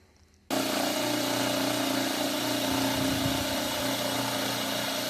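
A permanent magnet RotoVertor motor on 120-volt 60 Hz AC, brought up to speed by a pony motor, starts abruptly after a short quiet moment into a loud, steady electric hum and whine that runs on evenly.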